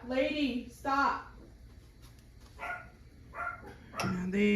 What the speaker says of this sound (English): once they hear somebody, then they're barking away